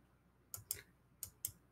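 Four crisp, close mouse clicks come in two quick pairs, undoing steps in a spreadsheet, over a faint, quiet background.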